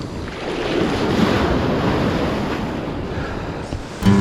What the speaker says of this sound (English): First set of waves